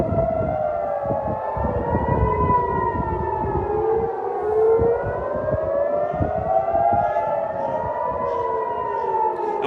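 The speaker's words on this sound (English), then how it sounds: "We now hear the air alert sirens coming on" Loud city air raid sirens wail during an air attack, their pitch rising and falling in long sweeping cycles, several overlapping with no one speaking.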